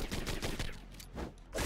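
Rapid bursts of gunfire from the action video game Katana Zero, several loud cracks in quick succession with short gaps, fairly close and dominant.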